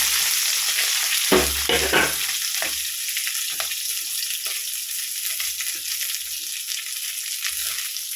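Shallots, large onion and curry leaves sauté in hot oil with a steady bright sizzle, a few low spoon-against-pan thumps early on and scattered soft scrapes throughout.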